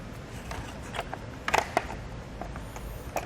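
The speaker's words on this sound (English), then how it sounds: "all we have to do is slide the T-tracks bolts into the slot." T-track bolts sliding into the wing bar slot of a Thule UpRide roof bike rack, heard as a few close metallic clicks and scrapes with small rattles, fairly quiet against a low background.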